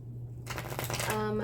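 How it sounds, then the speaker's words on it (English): A tarot deck shuffled by hand, its cards riffling in a steady, close, brushing rustle that runs for a second or so beneath a low background hum. "let's shuffle a few times anyway"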